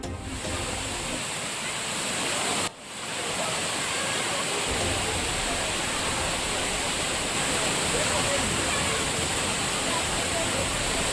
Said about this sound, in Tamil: கோடை மழை காரணமாக சுருளி அருவிக்கு நீர்வரத்து அதிகரிப்பு.